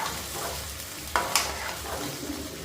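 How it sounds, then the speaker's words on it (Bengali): Potatoes and meat frying together in a pan give a steady, fairly quiet sizzle, with two brief utensil clinks of stirring partway through. "আলুটা হালকা ফ্রাই করলাম।"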